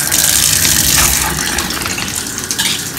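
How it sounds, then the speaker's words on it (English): Shower water runs steadily in a home bathroom, a loud, continuous broadband rush with no talking over it. "I am going to take a shower"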